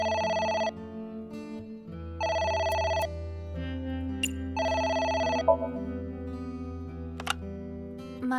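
A phone rings in AI: The Somnium Files, three bursts of a bright electronic trill separated by pauses, set over a low steady game background hum.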